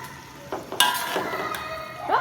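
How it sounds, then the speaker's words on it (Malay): Rice stirred into sautéed onion and garlic in a pot, with scraping spoon strokes and clinks over a soft, steady sizzle. "Masukkan beras. Untuk sebatikan beras dengan bahan tumis tu."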